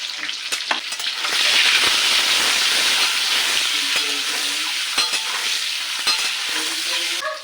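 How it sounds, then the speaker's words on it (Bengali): Egg frying in hot oil in a pan with salt and turmeric added, a steady loud sizzle with occasional spatula scrapes and clicks, no talking. "ডিমটা ভাজা হয়ে গেছে,"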